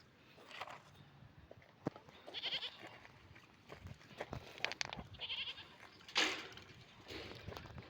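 A goat bleats several times outdoors at a river area, the calls moderately close but fairly soft, mixed with light rustling and footstep noises and no clear talking.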